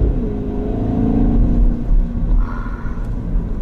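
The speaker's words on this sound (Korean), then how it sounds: "보세요 이거 스포츠 모드인데 가속 방식도 깔끔합니다 진짜." BMW X6 M60i with its V8 engine accelerating hard in sport mode, a steady deep rumble and rising engine drone heard from inside the cabin, continuous and fairly loud with no talking.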